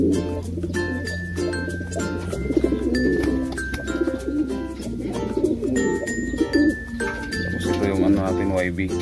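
Young brownish pigeons coo in repeated soft, throaty calls close by, with other bird chirps and a person talking over them throughout.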